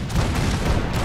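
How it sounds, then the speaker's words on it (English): A short, heavy burst of cannon fire aboard the USS Constitution in Fallout 4, dense booming blasts rolling together loudly for about a second with no voices. "Warning shots twice to scare that rabble off. Fire the cannons!"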